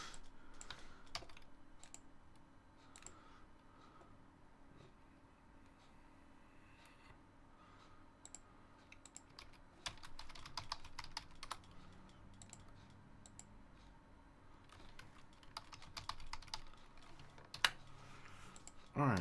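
Typing on a computer keyboard, steady clusters of close, light key clicks that come in bursts and grow busier toward the end, with a faint low hum beneath.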